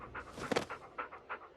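A dog pants in rapid, rhythmic breaths, close and fairly loud, within a halftime advertisement broadcast during a USL Championship soccer match.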